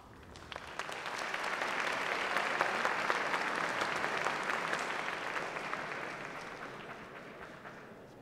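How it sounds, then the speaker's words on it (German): Audience applause at a kickboxing event in Ingolstadt, a dense, sustained burst of clapping from a large crowd that swells, holds steady and slowly tapers off, heard alone without talk. "der Applaus ist des Künstlers Brot"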